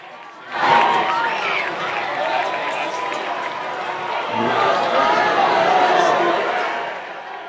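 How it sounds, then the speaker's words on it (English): Crowd at a varsity high school football game applauding and cheering in a broad, sustained roar that swells midway, with a commentator talking over it. "listen to this applause"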